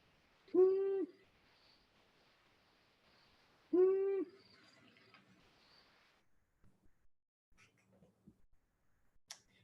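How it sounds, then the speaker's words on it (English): A long-eared owl gives two deep, hollow calls about three seconds apart in a quiet wintry setting, followed by faint scattered clicks. "But here's the long-eared owl."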